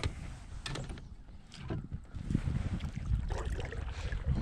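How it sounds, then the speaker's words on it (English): Gusty wind buffeting a small fishing boat on open water, a broad continuous rush that swells and eases in waves, fairly loud and close, with faint knocks of hull and gear and no talking. "Every time I get in a good spot, a gush of wind come."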